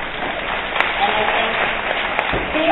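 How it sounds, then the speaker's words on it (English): An audience of women applauds steadily throughout at a conference talk-show chat, a dense, even clatter of many hands with a voice speaking over it. "see, all the smart women are clapping"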